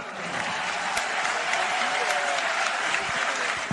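Stadium rugby crowd at Aimé Giral applauding Florian Cazenave as he leaves the pitch, a broad sustained wash of clapping from many spectators, distant and even, with a commentator's voice faintly over it.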